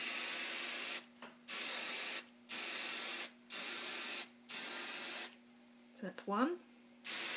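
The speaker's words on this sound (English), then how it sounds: "And then you get your hairspray and do about two or three coats." Hairspray from an aerosol can sprays onto fabric in five long bursts with short pauses between, loud and close, followed by a brief spoken remark.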